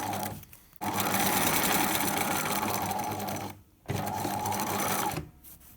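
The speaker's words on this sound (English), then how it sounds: "Back stitch again, or lock stitch at the end." A sewing machine back stitching and lock stitching a fabric pencil case runs in three steady, loud bursts with short pauses between them, close up and with no talking.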